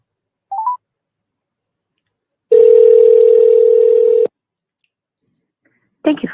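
A short burst of dial tones comes first, then a steady loud ringback tone holds for nearly two seconds while a phone number is called, and a brief clatter follows.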